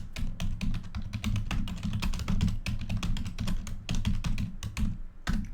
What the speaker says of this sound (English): Aggressive typing. That's this stupid mechanical keyboard.